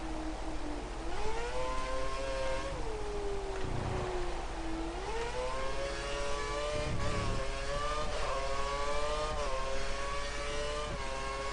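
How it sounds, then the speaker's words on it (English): A Formula 1 car engine in a racing video game on an Xbox, Malaysia circuit, a steady high-pitched whine that rises and falls with gear changes and throttle, loud and continuous throughout. "All while driving a Formula 1 car. Well, on a game"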